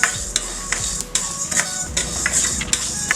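Split black urad dal is dry-roasted in a pan, giving a scattered rattle of light clicks and rustling taps as the grains are stirred and tossed against the metal.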